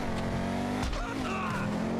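Car driving in GTA Online, a steady loud engine drone with a brief tire scrub or skid in the middle and faint sounds of driving around it.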